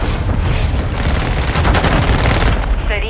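Continuous gunfire in a shooting video game, a dense, loud barrage of overlapping shots and booms sustained through the whole moment.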